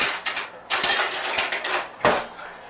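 Six eggs are whisked in a cooking bowl for lemon curd, a close, brisk clatter of a whisk against the bowl in fast repeated strokes, with brief pauses between flurries.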